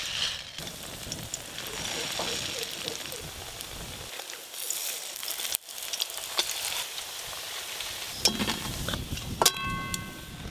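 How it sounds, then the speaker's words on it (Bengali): Egg fritters (dim bora) sizzle steadily in a frying pan, a continuous moderately loud crackle with a quieter dip midway, and a voice speaks briefly near the end. "আবার একই রকম ভাবে বড়াগুলো ভেজে নেব।"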